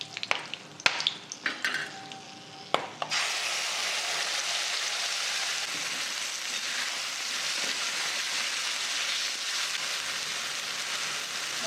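Ground masala paste for dhaba-style paneer masala hits hot oil in a pan, and after a few clatters it erupts into a loud, steady, continuous sizzle of frying that holds without a break to the end.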